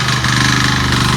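A tractor engine runs steadily while ploughing a village field, a close, loud, continuous throbbing drone with no voices.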